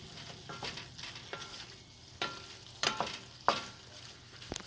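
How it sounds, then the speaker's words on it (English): Tomato paste and ground beef sizzle in a pot for sopa de conchitas, a steady close frying hiss broken by several sharp crackles and pops, with no talk over it. "just let it continue sizzling down at the bottom a little bit"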